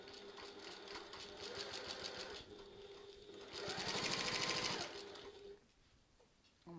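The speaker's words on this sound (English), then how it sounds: "I'm back stitching at the start and the end" A sewing machine back stitches a tote bag seam at the start and end, its needle running in quick rapid bursts with a short pause and then a louder, denser run before stopping, up close and alone.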